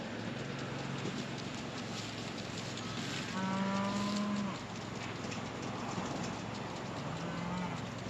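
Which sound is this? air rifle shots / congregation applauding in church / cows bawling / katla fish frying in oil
cows bawling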